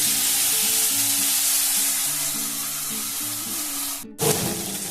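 Mustard paste hitting hot oil with five-spice seeds, a loud close sizzle with steady crackle, then a brief drop and a fresh hiss near the end.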